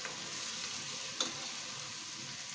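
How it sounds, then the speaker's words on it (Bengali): Boiled vegetables frying in a pan for fried rice give a steady, soft sizzle with one brief utensil clink midway, close but faint, with no talking. "সিদ্ধ করাই আছে সবজিটা, তারপরে একটু ভেজে নিচ্ছে, ফ্লেভার আসবে সুন্দর ভালো"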